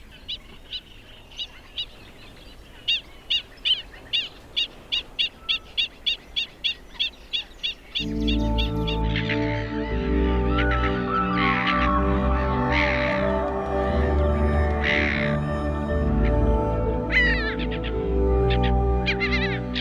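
Black-winged stilts on a river nesting ground call loudly to defend their nests, a rapid series of sharp, repeated yelping notes over a river background that later gives way to swelling music.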